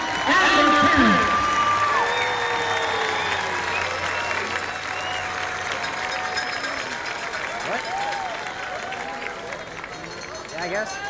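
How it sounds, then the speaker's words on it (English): Football fans in the stands at a Harlingen Cardinals high school game applaud senior players and their parents, with clapping and cheering spread over a crowd murmur. An announcer's voice and whistles or chirps rise over it near the start. "Football fans, let's give a big round of applause for our Cardinals senior football players and their parents."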